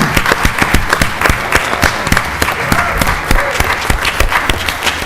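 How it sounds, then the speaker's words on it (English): Loud, close clapping from a gathering honouring a colleague's leadership, with crisp individual hand strikes in a lively, uneven rhythm sustained across five seconds. "I just want to applaud her publicly for her leadership and the work that she does."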